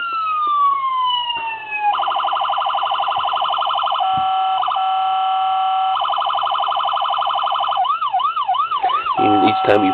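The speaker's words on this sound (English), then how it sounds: "the button on the passenger side is your siren" An electronic siren on a custom diecast Ford Interceptor police model loudly cycling through several tones: a falling wail, rapid yelps, a steady warble and fast pulsing chirps, one after another.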